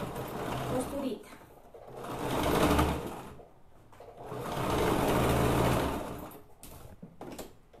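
A sewing machine stitching fabric runs in two steady, whirring bursts of a few seconds each, loud and close, with someone talking in the pauses between them.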